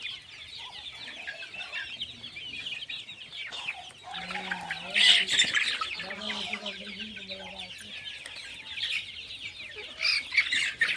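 Sonali chickens clucking softly while grazing on grass alongside Chinese ducks, the clucks coming in short bursts over a steady background of birdsong, moderately close and fairly quiet.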